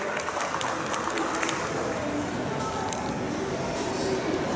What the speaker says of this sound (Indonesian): Tepuk tangan buat Kak Elsye teman-teman.